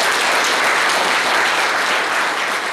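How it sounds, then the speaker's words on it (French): Steady, dense crowd applause at a political rally, loud and sustained without pause, large audience clapping continuously throughout. "je voudrais que vous-même vous applaudissez"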